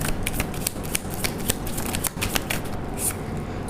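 Tarot cards are shuffled rapidly and continuously up close, a dense run of crisp riffling flaps and snaps with no talk.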